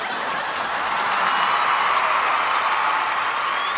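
Audience at a film audio launch event applauding, a loud, steady wash of many hands clapping throughout, with faint crowd murmur.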